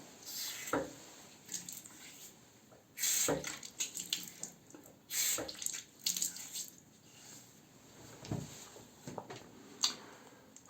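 A shaving stick, Arko soap, is rinsed under a running tap, with intermittent splashing and gurgling water and soft squishy handling sounds, close and fairly quiet.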